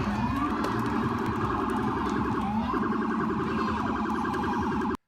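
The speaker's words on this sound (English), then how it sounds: "Listen how he's running the siren over and over again" A police car siren wails in repeated rising and falling sweeps, loud and continuous, running without a break until it cuts off abruptly at the end.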